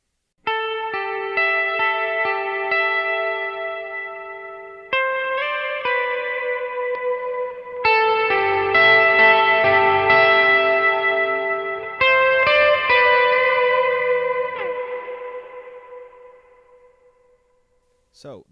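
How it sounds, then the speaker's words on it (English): An electric guitar played through a wet, large reverb pedal rings out in chords and single notes, each attack blooming into long shimmering trails that wash together before fading to silence. "So that's a wet reverb, and then I have this one for swells."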